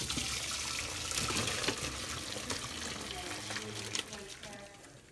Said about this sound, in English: Soup's ready, and now we're just going to strain it out.